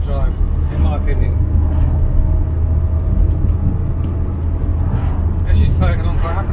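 An Austin Allegro with Hydrogas suspension cruises along the road at about 40 mph, its engine and tyres making a steady, close, continuous rumble throughout.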